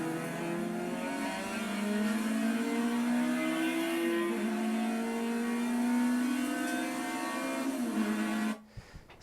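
A race car accelerates hard in second gear after a 180-degree spin during a wet race weekend, its engine climbing in a loud rising whine from onboard before abruptly cutting off.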